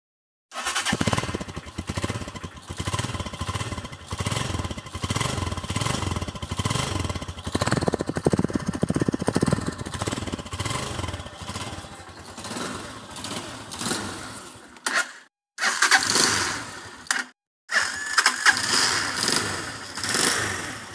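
A Viper V150A motor scooter engine starts and settles into a steady, buzzing idle, then cuts out briefly twice near the end before restarting.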